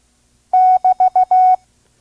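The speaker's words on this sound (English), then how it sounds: "The double dash is written as a long dash or as an equal sign and serves as a break or pause in a Morse code conversation." The Morse code double dash procedural signal sent as clean, loud tone beeps: a long tone, three short ones and another long one in quick succession, alone in silence.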